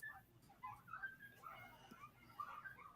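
Dogs whimpering and yipping in high, whiny bursts, faint and somewhat distant over a low background murmur.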